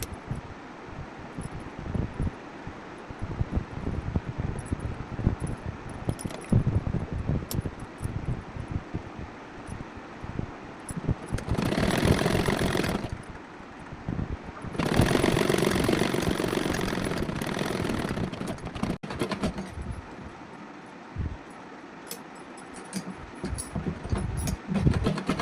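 A sewing machine stitches a double-folded shoulder seam on the front piece of a suit, whirring in two runs of a couple of seconds and about four seconds over a quiet background hum, with no talking.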